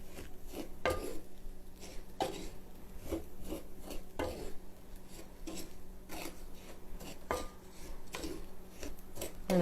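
Toasting nuts are stirred around a hot pan on a farm-stand stove, giving repeated dry scraping and rasping strokes at a steady, close rhythm, with no voices.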